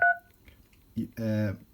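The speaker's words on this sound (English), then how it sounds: "just by dialing the number from the keypad" Keypad tones from an Anysecu 3G-W2 radio dialing a phone number, a short bright tone burst at the start, followed by a brief low noise and a voice speaking near the end.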